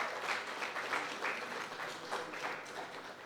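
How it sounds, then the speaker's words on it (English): An audience at a film festival launch applauds quietly but steadily, a dense patter of many hands clapping at a distance for the whole few seconds, with no voices above it. "Can we have a round of applause for our filmmakers,"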